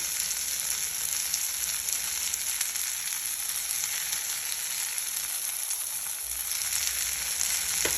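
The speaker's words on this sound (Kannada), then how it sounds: "ಆಫ್ ಮಾಡಿ ನೀರು ಹಾಕ್ತಾ ಇದ್ದೀನಿ ನೀರನ್ನು ಹಾಕ್ತಾ ಇದ್ದೀನಿ" Water hits a hot pan holding ivy gourd chutney ingredients and salt, setting off a loud, steady sizzle and hiss that runs unbroken throughout with no talking.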